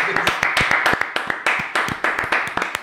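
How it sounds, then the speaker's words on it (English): A small group of people clap together in a studio during a sports talk show, giving sharp, closely spaced claps in an uneven rhythm, loud and near. "I think we should clap"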